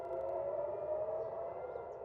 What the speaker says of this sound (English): sirens in Tel Aviv caused panic among residents